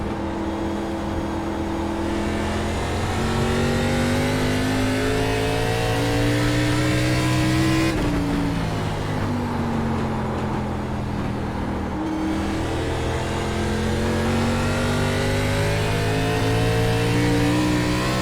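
An ARCA Series race car engine in iRacing at USA International revs continuously, its pitch climbing through gears, dropping, then rising again, loud and close with no talk.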